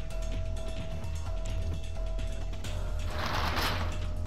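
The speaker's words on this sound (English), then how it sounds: "Shutter's open." Mechanical shutter opening in the video game Zero Time Dilemma, a steady grinding mechanism with ratcheting clicks over a low hum, then a louder rushing slide near the end.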